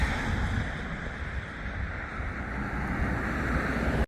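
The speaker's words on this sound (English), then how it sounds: "I'm gonna flip you guys around here and show you this river" Rushing river below a waterfall in Yosemite, a steady broadband roar of flowing water, close and continuous, cutting off abruptly at the end.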